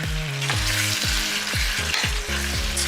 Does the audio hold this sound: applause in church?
no